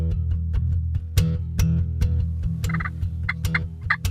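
A wild turkey tom gobbles in rapid bursts over a steady low hum during a turkey hunt, several rattling calls repeating near the end.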